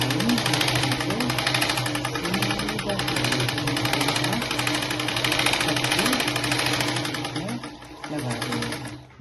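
Sewing machine stitching a blouse, running steadily with a fast even mechanical whir and rhythmic needle chatter, close and continuous throughout.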